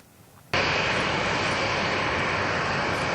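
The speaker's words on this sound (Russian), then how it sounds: "Это первый самолет, который прибыл в Казань из Грозного." Passenger airplane arriving at Kazan airport on a new route from Grozny, a loud steady engine roar that bursts in after a brief quiet moment and holds without a break.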